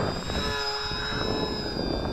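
A small XK DHC-2 A600 electric RC airplane buzzes steadily overhead, its motor whine holding an even pitch at moderate distance in light wind.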